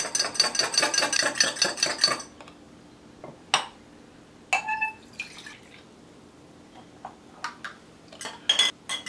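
Pink lemonade stirred in a glass, a spoon clinking rapidly against the sides for about two seconds, followed by a few scattered light taps and clinks.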